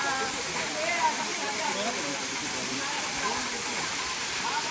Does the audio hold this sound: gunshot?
no